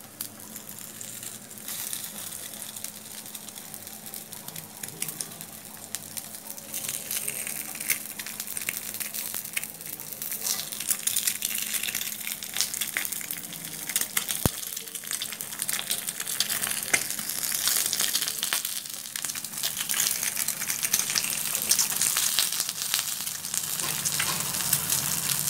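Quail eggs fry in a khanom krok pan with a steady, dense sizzle and crackle that runs unbroken and swells slightly over time, heard up close without speech.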